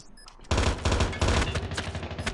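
Dense automatic gunfire in a Call of Duty scrim match, rapid sustained bursts of loud, close shots rattling continuously for a couple of seconds without talking.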